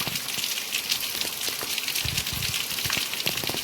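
Rain falling steadily, a dense hiss of drops with occasional louder splashes and patters nearby, no voices.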